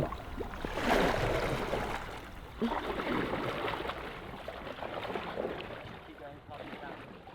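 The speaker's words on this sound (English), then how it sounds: "you start paddling across" A boat is paddled across a river, with soft splashing and strokes against the water blending into wind noise and outdoor ambience.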